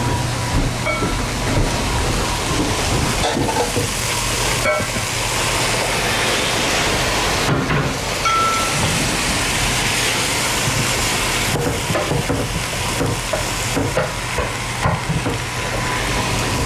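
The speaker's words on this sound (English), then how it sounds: "You just keep frying away." Steady, dense sizzling of food frying in a pan, continuous and fairly loud, with occasional scraping clatter and no talking.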